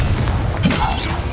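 Expelliarmus spell impact in the Hogwarts Legacy game, a single muffled boom with a brief bright crack over continuous background game sound.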